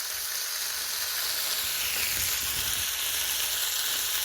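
Ground hamburger meat for tacos sizzles steadily in a hot pan, a close, continuous crackling hiss with soft bubbling underneath, with no voices.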